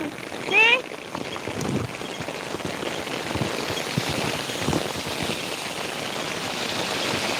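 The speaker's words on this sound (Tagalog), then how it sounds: "Heavy rain." Heavy rain pours in a dense, steady hiss that lasts the whole time, with a brief louder bump and a short voice-like sound near the start.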